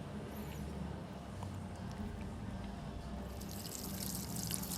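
Running tap water rinses the roots of a pest-infested succulent, a Greenovia, as the potting medium is washed off; a steady, close, broadband splashing flow continues without pause and with no talking.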